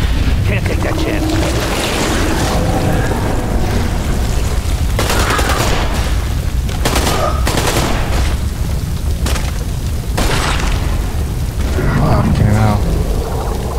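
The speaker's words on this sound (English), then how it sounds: "Shoot two of his men, and then shoots himself." Gunfire in the video game Beyond Two Souls, heavy booming shots and bursts over a loud, dense game soundscape, with voices talking through the clip.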